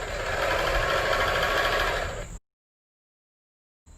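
An electric sewing machine runs steadily, stitching fabric for a handmade cushion cover sewn from old clothes, a loud continuous whirring motor hum that stops abruptly partway through, followed by silence and a brief restart at the end.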